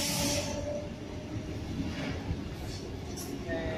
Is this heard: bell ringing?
no